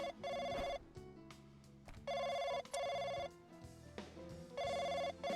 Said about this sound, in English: answer the phone from our boss